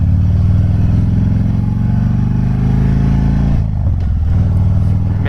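A custom Harley-Davidson Fat Bob's V-twin engine rumbles loud and close, with a steady deep idle-to-cruise growl that briefly dips and shifts near the end as the rider works through low-speed turns.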